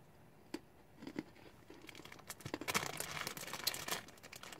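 Close, crisp crunching bursts, sparse at first and then rapid and dense, as chocolate-covered malt balls are chewed right near the ear.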